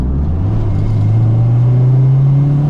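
Honda Del Sol fitted with an Integra Type R VTEC engine revs hard in second gear, a loud, close, steady engine drone climbing smoothly in pitch throughout, with no voices.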